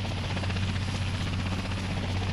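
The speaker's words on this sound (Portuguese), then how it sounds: "Ah, o helicóptero indo embora." Helicopter rotors chop steadily with a constant engine whine as the helicopter flies away in a Dead Island video game, holding an even, fairly loud level throughout.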